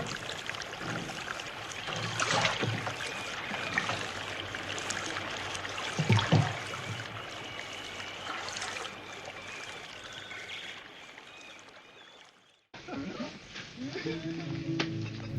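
River water rushes and trickles in a steady, moderately faint flow through a wooded wilderness, with a brief break before the flowing resumes.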